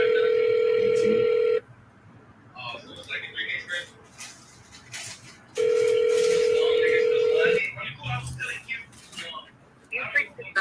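A telephone ringback tone heard while calling a real estate lead: two long, loud steady tones separated by quiet gaps, with faint background sounds between them.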